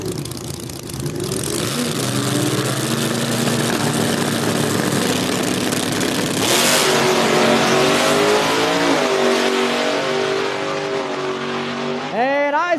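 Small-tire race cars roar down a drag strip at a $100,000 Small-Tire Battle event, a loud, sustained engine blare with shifting pitch that climbs sharply into a high whine at the end.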